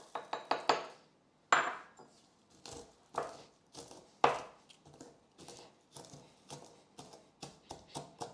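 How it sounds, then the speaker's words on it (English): Garlic is crushed with salt in a kitchen, giving a series of close, sharp knocks and thuds at an irregular rhythm, some strokes louder than others, with no talking. "I'm just going to crush that garlic"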